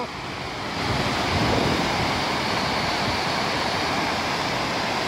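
A loud, steady roar of the flooded, rising River Ogmore rushing by an old stone bridge near Bridgend in February, continuous broadband churning that swells slightly after the first second and holds unbroken.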